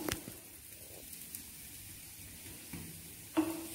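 A cheese sandwich sizzles steadily in a hot pan, with a soft, even fry and a few faint clinks.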